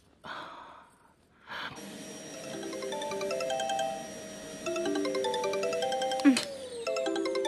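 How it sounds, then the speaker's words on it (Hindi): A phone rings during a dubbed South Indian movie scene, its tonal electronic ringtone melody repeating steadily and clearly after a brief breathy pause, with no talk over it. "काम के ही बीच में हमेशा फोन आता है"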